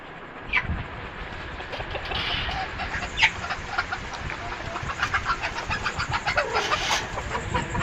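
A hen on a poultry farm clucks in short bursts over a constant background hum, with scattered close clucks rising above the noise.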